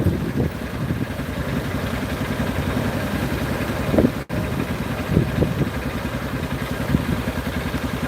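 A 2025 model motorcycle engine running at idle, a steady close rhythmic chugging with light mechanical clatter and a brief dropout midway.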